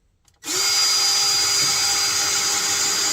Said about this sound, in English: It's always good to take a cordless drill out there